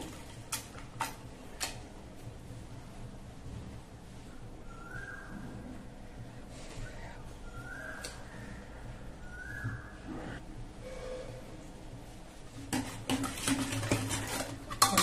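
Cooked brinjal and tomato mashed in a metal pot, heard as soft, irregular scraping and tapping of a utensil against the pot, quiet and close, with a few sharper clinks and a busier clatter near the end.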